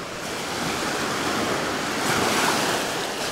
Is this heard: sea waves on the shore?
yes